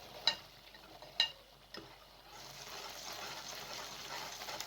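A spoon stirs thickening milk halwa in a pan, producing a few faint scraping knocks followed by a soft steady sizzling, bubbling texture close by.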